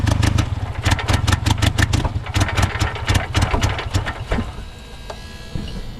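A Honda Civic engine left sitting for ten years runs rough with one dead cylinder, a loud uneven idle with rapid irregular pulsing that stumbles and fades toward the end as it runs out of fuel.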